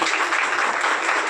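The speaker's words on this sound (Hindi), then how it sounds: "साथियों, कृपया ताली बजाते रहें।" Applause from the audience at a BSNL retirement farewell ceremony, a dense, steady wash of clapping that fills the short moment without a break.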